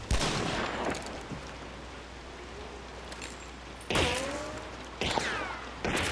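Gunfire from the Hunt: Showdown video game, with dual-wielded pistols loaded with Dumdum ammo: a burst of sharp shots at the start, then single loud reports near the four-, five- and six-second marks over a steady low ambient bed.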